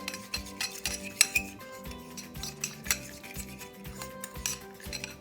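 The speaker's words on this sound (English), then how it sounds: "Okay, mix it until there are no lumps in it." A thick, lump-free paste for a spring roll filling is stirred with a metal utensil in a bowl, giving steady scraping and light clinking taps, close and fairly quiet with no voices.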